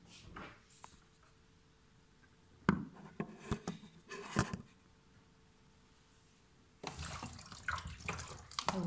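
Water splashes and sloshes in a basin in two bursts as strawberries are washed, with a quieter stretch of faint trickling between them, close by.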